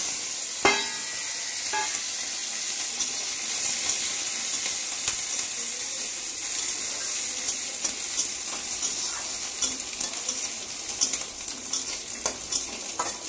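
Garlic and green chili fry in hot oil with a steady bright sizzle, punctuated by sharp clicks and scrapes of stirring in the pan, close and continuous with no talk.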